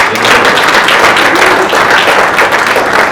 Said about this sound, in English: big round of applause for Daniel, their team, and all the members